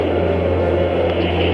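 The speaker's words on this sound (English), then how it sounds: "Liftoff on Apollo 11." Apollo 11 rocket liftoff in 1969, a loud, dense, continuous roar with a deep steady rumble and no pauses.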